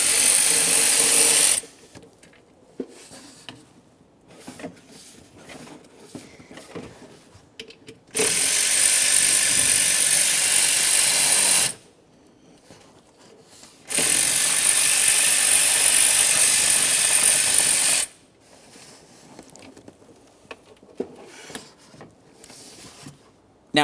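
A 13mm ratchet backing out radiator fan mounting bolts on a 2004-2008 Ford F-150 with the 5.4L V8, three long bursts of fast, loud clicking separated by quieter pauses of faint handling.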